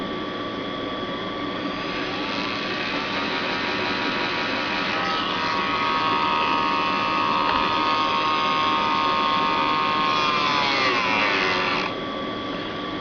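A Dremel rotary tool losing power while cutting into a controller case, a steady high whine that drifts and sags in pitch toward the end before cutting off.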